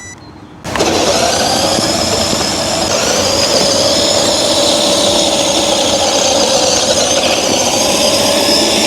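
Small RC car running in second gear: after a quiet moment the motor kicks in abruptly, then holds a steady, loud, whining drone with gear hum, close and continuous, with no talking.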